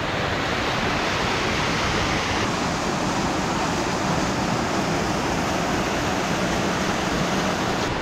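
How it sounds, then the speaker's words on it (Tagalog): A tall waterfall on a hiking trail in Pangasinan thunders down to the pool below, a steady, loud, broadband roar that fills the whole stretch with no voices over it. "may isang falls pa ulit doon, pabagsak dun sa baba"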